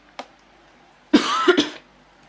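After a faint click, a person nearby lets out a short, harsh fit of coughing, two or three rough bursts in quick succession, then quiet.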